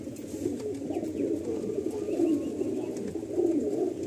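A domestic breeding-pair pigeon, the female, coos in low, repeated throaty pulses at close range, a soft steady murmur with no talking over it.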